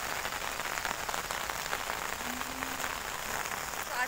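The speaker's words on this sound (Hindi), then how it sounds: "देखिए बारिश कैसी मस्त झमाझम बारिश हो रही है" Heavy monsoon-style rain pours steadily onto surfaces nearby, a dense, even hiss with no pauses for the whole stretch.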